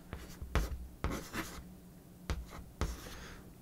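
Handwriting on a board or paper while explaining how a microphone works. Close, scratchy pen strokes come in short bursts separated by brief pauses, with no talking.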